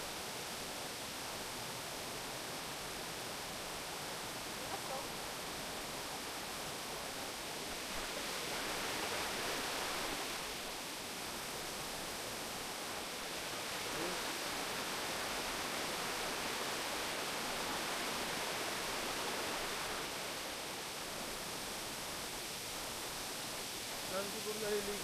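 A small stream runs steadily somewhere in the background, a faint continuous wash of flowing water that swells slightly at times, with no talking.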